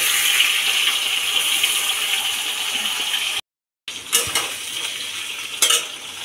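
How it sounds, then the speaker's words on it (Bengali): Large-cut potato pieces go into a pan of fried onions, producing a continuous sizzle with clinks of a utensil, a brief silent gap, then renewed frying with sharper scraping and stirring sounds; no speech. "এখন এই যে দিয়ে দিচ্ছি এর ভিতর আলু"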